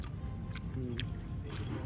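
Crunchy toffee-like nuts are chewed at a restaurant in Okada Manila, a few sharp close crunches spaced irregularly over a low room murmur.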